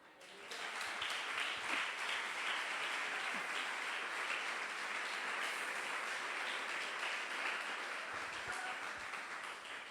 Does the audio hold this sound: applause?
yes